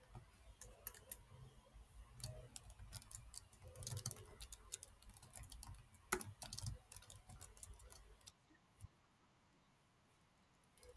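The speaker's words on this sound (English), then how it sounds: "I'm typing it out" Typing on a computer keyboard sounds as quiet, irregular clicks and taps in bursts for about eight seconds, then stops, leaving near silence.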